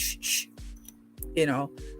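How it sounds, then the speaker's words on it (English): Mama Spit skin spray hissing from a spray bottle, two short bright bursts close by during a baby-care routine, someone talking between them. "Now we just spray with the Mama Spit."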